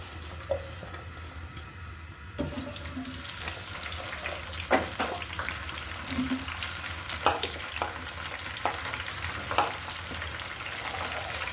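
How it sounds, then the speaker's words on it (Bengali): Vegetables such as broccoli and green beans frying in oil, a steady crackling sizzle broken by repeated scraping stirs and clacks, close and alone. "এবার আমি সবজিগুলোকে তেলের মধ্যে ভেজে নিচ্ছি।"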